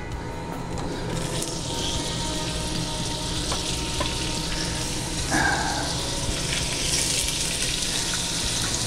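Leeks sizzling in hot olive oil for a clam sauce, a steady close frying hiss with faint stirring clicks and no talking.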